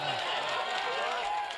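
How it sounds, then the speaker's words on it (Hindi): An audience at a Hindi comedy poetry show bursts into brief, steady applause mixed with crowd noise and a few vocal exclamations, heard at a moderate distance for under two seconds. "एक तालियां हो जाए जोरदार बढ़िया से"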